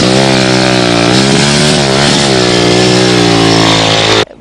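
A heavy motorcycle engine revs loud and close, its throttle rising and falling in a rich harmonic roar before cutting off abruptly at the end.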